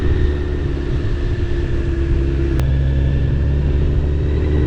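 A motorbike ridden slowly through a village idles and putters at low revs, a steady close rumble throughout with no talking.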